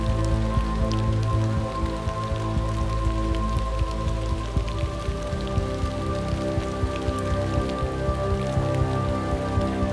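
Steady rain falls in a wood in Norfolk, a dense, even patter of drops on leaves and ground, with scattered louder drips close by and no voices.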